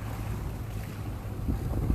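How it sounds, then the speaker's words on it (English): Hard wind blows across a microphone at sea aboard a boat at a schooner festival in Gloucester, Massachusetts, giving a constant loud rushing roar with low buffeting and light wave wash beneath. "The wind's blowing pretty hard"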